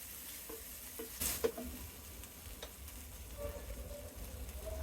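Ginger garlic paste with salt sizzles and fries in a pan, a steady low crackle with a few stirring clicks and scrapes partway through, close and moderately quiet.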